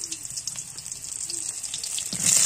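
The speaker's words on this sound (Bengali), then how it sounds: "নুন দেওয়ার পর আমি কাটা পটলগুলো দিয়ে দিচ্ছি।" Cut pieces of pointed gourd hit hot salted oil in a pan, giving a steady sizzle close by that swells louder near the end as more pieces go in.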